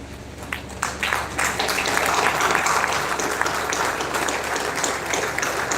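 An audience at a national seminar for Coal India applauds, with many hands clapping in a dense, sustained burst that swells after a sparse start and holds steady.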